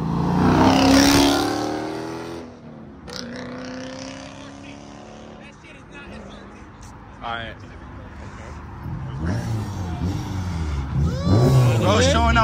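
Car exhaust revs at a car meet: a few throaty bursts and a passing roar at moderate distance, mixed with crowd chatter and voices talking close by.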